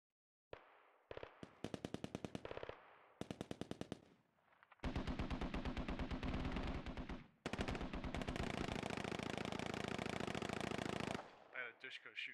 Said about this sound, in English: I had a Dushko shooting up road at me.